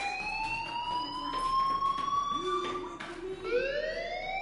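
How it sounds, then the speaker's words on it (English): Fire alarm from the video game Life is Strange: steady electronic tones ringing continuously at moderate loudness, with a rising siren-like sweep in the background near the end. "do you hear that fire alarm? That means you should be outside."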